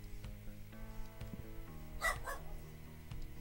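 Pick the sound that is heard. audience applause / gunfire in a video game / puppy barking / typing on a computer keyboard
puppy barking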